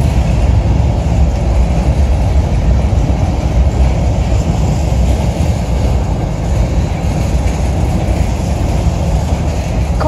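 An RJ Corman freight train hauling corn leaves the Clearfield yard with a loud, steady rumble of rolling wagons and a continuous rail roar, close by with no voices.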